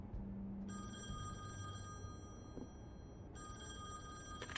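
An old-style telephone rings in The Wolf Among Us video game, with two long electronic bursts separated by a short pause over a low background hum.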